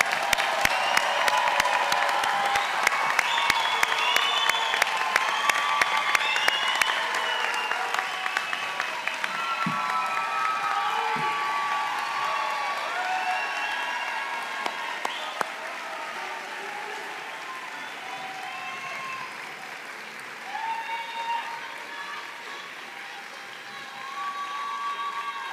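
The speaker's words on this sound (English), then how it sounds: "Let's give one more round of applause for all of our graduates" Graduates at a virtual commencement are celebrated with sustained crowd applause mixed with cheers and whoops, a long busy wash of clapping and excited voices that stays fairly loud and gradually thins toward the end.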